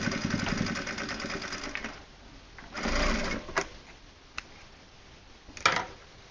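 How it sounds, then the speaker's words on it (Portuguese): A sewing machine stitches a strap onto a denim phone wallet, running in a steady close burst, then pausing into short stops and restarts with scattered ticks and clicks. "E aí eu coloco ela aqui nessa parte da aba e já costuro junto e fixo"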